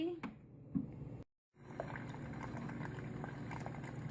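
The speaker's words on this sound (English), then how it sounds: "Put it in my Keurig with a coffee." A Keurig coffee maker brews coffee over pumpkin, half and half and sweetened condensed milk with a soft steady hiss and gurgle, broken by a brief moment of silence before the brewing continues.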